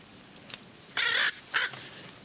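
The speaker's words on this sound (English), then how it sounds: "get rid of that bird immediately" A bird in an old black-and-white comedy film from 1941 caws twice in harsh, rasping bursts, the first longer than the second, over a faint background hiss.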